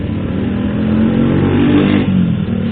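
A 2018 Kawasaki Ninja motorcycle engine runs loud and close in a steady rev, swelling slightly midway before easing back, with no voices over it.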